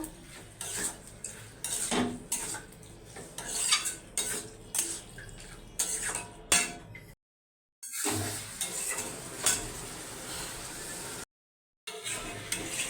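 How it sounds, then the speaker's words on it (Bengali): Shrimp and pre-fried potatoes stirred in a pan, repeated metallic scraping and clinks of a spatula over a faint sizzle, irregular strokes close up, broken by two short silent gaps. "ভেজে রাখা আলুগুলো দিয়ে দেবো চিংড়ি মাছটা দিয়ে দেবো ভালো করে কষিয়ে নেবো"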